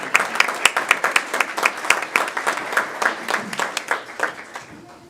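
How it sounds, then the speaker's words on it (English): A small audience claps at a school board meeting, honouring staff who are receiving certificates. The claps are close and distinct, in a brisk irregular patter that keeps going for several seconds before thinning out. "We can clap for Joy."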